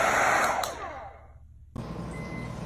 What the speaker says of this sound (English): it's just a hair dryer